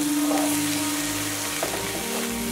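Potatoes fry with spices and black pepper in hot oil, giving a steady, close, even sizzle that keeps going with no pauses and no talking.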